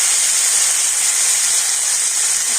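Chopped tomatoes hit hot oil with fried cumin and dried red chillies, giving a loud, even, continuous sizzle that holds steady from start to finish.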